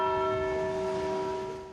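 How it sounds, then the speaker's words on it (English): A Catholic church bell at Five Holy Martyrs in Chicago sounds one sustained, somber toll, its ringing tone holding steady and slowly fading. "the somber bell"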